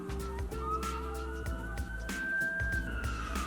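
A police car siren wails outside, a single rising and falling tone heard at moderate distance over a low background hum, with no talk.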